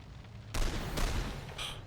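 Gunfire in the turn-based tactical game The Lamplighters League: two loud, close bursts of shots, one after the other, with a brighter crack near the end, and no voices over them.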